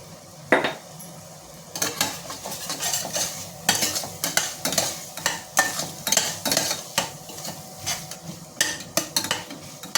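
A spoon scrapes and clinks repeatedly against a pan while ginger garlic paste sizzles underneath, steady stirring close by.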